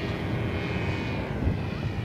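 Steady drone of an RC model airplane engine turning a propeller through a 2.8:1 reduction gearbox at an airshow, heard at moderate distance and fairly faint, with a slight pitch shift as it passes.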